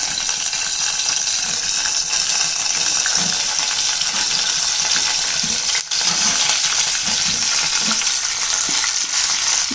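Garlic, tamarind, tomato and onion frying in oil for a dosa chutney make a loud, dense, continuous sizzle close up, with faint scraping and stirring clicks running through it and no voices.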